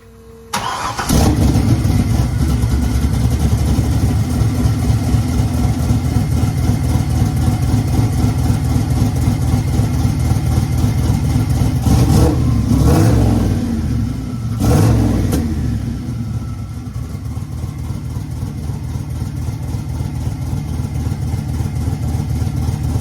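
Car engine with a 76mm single turbo, sitting in a shop build, starts up and idles loud and close, with a few sharp revs blipping around the middle before it settles back into a steady rumble.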